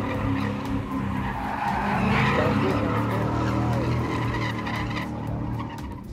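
Car tires skid and squeal continuously as a car drifts in tight donuts, a loud sustained screech over engine roar, with a brief swell in the middle.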